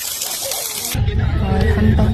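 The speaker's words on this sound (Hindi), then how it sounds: "देखिए कितना ब्यूटीफुल सा झरना है।" A mountain waterfall near Bageshwar roars as a steady, broadband rush of falling water, loud and close, with the low end thickening partway through.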